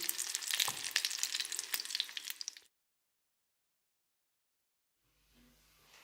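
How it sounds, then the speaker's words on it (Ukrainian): Stuffed rolls sizzle and crackle as they fry in a hot pan with sharp pops for a couple of seconds, then silence and a faint low hum. "поки трубочки мої смажаться"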